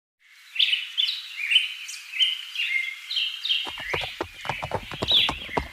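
Horse clip-clops carrying a load of dry firewood to market in a Hindi cartoon, a run of hoof beats entering midway beneath steady chirping birdsong that fills the whole scene.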